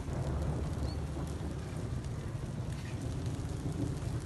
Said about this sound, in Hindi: ये देखें बारिश जो है ऐसे मिनटों में तेज़ हो चुकी है।